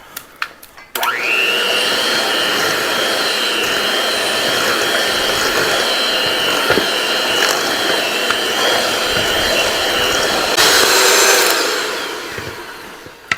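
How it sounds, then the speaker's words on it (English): An electric mixer churns peanut butter cookie dough, starting abruptly and running as a steady loud motor whine for about ten seconds, briefly rising in pitch before winding down. "This mixer breaks up all the butter."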